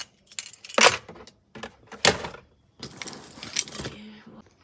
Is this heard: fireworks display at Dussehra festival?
no